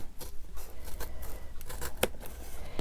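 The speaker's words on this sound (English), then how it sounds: "So I'm just going to come here with so I can get my scissors in between" Scissors cut into the tight spine of a book, giving a run of soft crunchy snips and scraping paper sounds, then one sharp click near the end.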